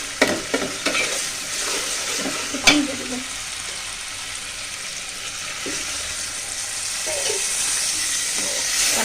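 Ginger-garlic paste and spices fry with onions in a pot for pulao, giving a loud, continuous sizzle with a few sharp clanks of a spoon near the start, then steady hissing alone.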